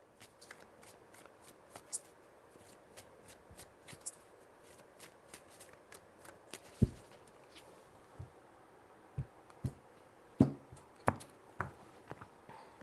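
Tarot cards are shuffled close by in a run of soft riffles and crisp taps, irregular and quiet, with a few sharper slaps of the deck.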